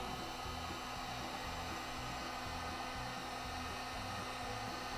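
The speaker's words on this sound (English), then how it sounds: "you can hit these with a heat gun and change you can black them out" A heat gun blows steadily on heat-sensitive shipping labels, a constant airy whir with a low motor hum, unchanging throughout and with no voices.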